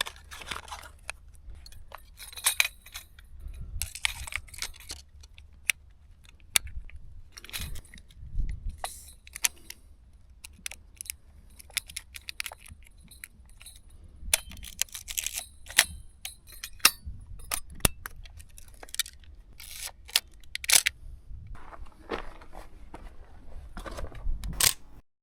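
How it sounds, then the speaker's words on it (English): Kodak ColorPlus 200 film is loaded into a Nikon FM2 N 35mm camera, with quiet, scattered close clicks, rustles and mechanical snaps over a hushed background. "I'm gonna load my film camera now. Got some Kodak ColorPlus 200."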